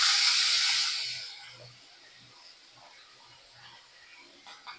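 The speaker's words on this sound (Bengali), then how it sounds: "এবার আমি অ্যাড করছি হচ্ছে কাটা পেঁয়াজটা।" Chopped onion dropped into hot oil for a chicken yakhni pulao, hissing loudly at first and then settling into a quieter steady sizzle with faint crackles.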